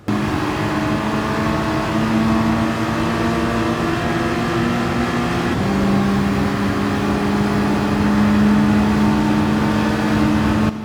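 Race cars lapping Interlagos in Gran Turismo 7 during a Manufacturers Cup exhibition race, a loud steady engine drone with sustained tonal whine that shifts pitch midway as cars change gear, continuous with no talk.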